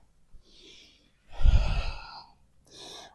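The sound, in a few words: exhaling breath while folding forward in yoga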